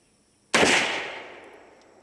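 A shotgun fires #8 birdshot into an FBI spec Clear Ballistics gel block, a single sharp close blast after a moment of quiet, followed by a decaying reverberant tail.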